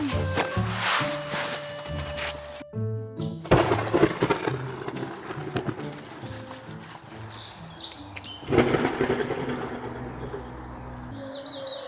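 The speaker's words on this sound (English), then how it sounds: "Thunder. Looks it will rain." Thunder rolling before rain, heard as a low rumble with a sharp crack partway through and a second swell later, moderately loud under outdoor ambience with scattered bird chirps.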